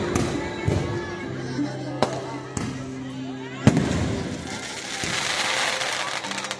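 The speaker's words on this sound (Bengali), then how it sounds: "আরামবাগের কুম্ভ মেলা যেন আমাদের আতশবাজি প্রদর্শনের দিন" Several sharp fireworks bangs burst at irregular intervals at the Kumbha fair in Arambagh, followed by crackling, over a steady background murmur and hum.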